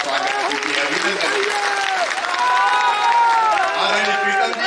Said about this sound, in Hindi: मैं चाहता हूं एक बार तालियां बजा के राहुल सिंह का स्वागत कीजिए, अभिनंदन